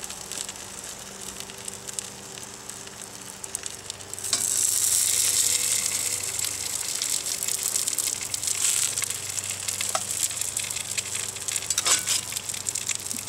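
Chili rellenos frying in a pan over grill coals, a steady loud sizzle and crackle that swells after a quieter start and holds continuously, with occasional sharp pops.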